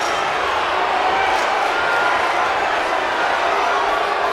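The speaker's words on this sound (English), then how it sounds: "listen to this capacity crowd" A capacity arena crowd at a wrestling event roars and cheers, a dense, steady wall of noise that holds loud and unbroken the whole time.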